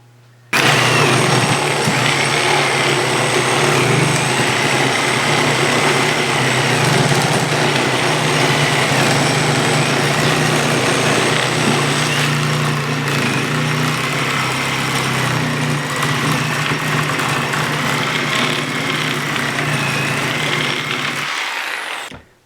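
A Ryobi P517 brushless reciprocating saw makes a cut, its motor buzzing loud and close in one continuous high-pitched whine for about twenty seconds before it cuts off abruptly.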